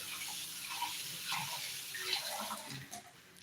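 Water pours into a vessel of lentils being readied for dal curry, a steady close splashing gush lasting a few seconds with no voices.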